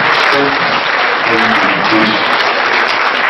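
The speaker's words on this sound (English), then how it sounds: "Let's keep clapping" Audience clapping at the launch of the Kudirat Abiola Sabon Gari Peace Foundation, a loud, dense, continuous wash of applause with voices mixed in underneath.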